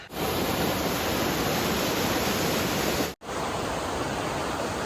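A waterfall on the Chattooga River along the Foothills Trail roars as a dense, constant close-up rush, broken by one instant cut just past three seconds.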